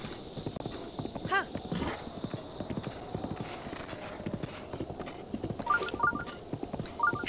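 Rhythmic hoof clip-clop from a galloping horse in Zelda: Breath of the Wild on the Switch, with a brief whinny. The clatter runs steadily at moderate volume beside some faint game sounds.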